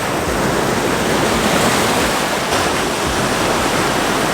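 Ocean waves roll onto the shore at sunrise, a loud, continuous broadband roar of surf with constant wash and no pauses, and no voices present.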